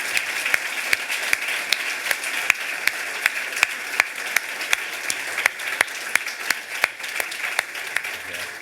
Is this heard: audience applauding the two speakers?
yes